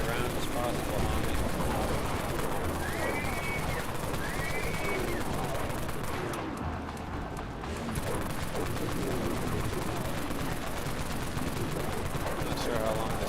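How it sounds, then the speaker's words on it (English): Gunfire in the online zombie shooter Dead Frontier, a dense continuous crackle of rapid shots with a short lull midway, layered under game noise and occasional voice. "We can fire as many rounds as possible, homie."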